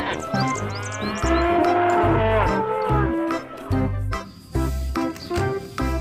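Several drawn-out moos from a toy cow, loud and close, separated by short pauses.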